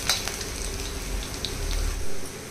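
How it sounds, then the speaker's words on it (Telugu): Small pieces cut from a two-inch piece of ginger fry in hot oil in a pan, giving a steady, close crackling sizzle with scattered pops throughout. "తీసుకుని క్లీన్ చేసి చిన్న చిన్న ముక్కలుగా కట్ చేసుకుని వేసి చక్కగా దోరగా వేగించాలి"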